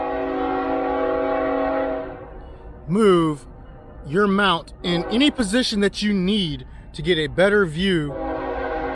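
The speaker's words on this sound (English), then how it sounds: "excuse the train coming through" A train horn sounds in long steady blasts at the start and again at the end, with someone talking between the blasts while setting up a motorcycle phone mount outdoors.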